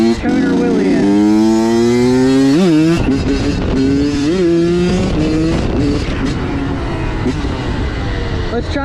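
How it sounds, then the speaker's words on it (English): A dirt bike engine revs hard and loud up close during a wheelie, pitch rising and falling with throttle blips and chops, sustained throughout. "let's get a good tuner wheelie in."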